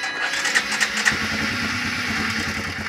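A four-wheeler ATV engine cranks over with a few quick starter bursts, then catches and settles into a steady, fairly loud idle close by, with no talking over it.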